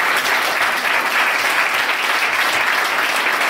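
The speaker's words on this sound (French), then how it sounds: "je pense qu'on peut lui refaire encore un applaudissement" Loud, sustained applause from an audience at a leadership talk, a thick, even roar of many hands clapping close by without a pause.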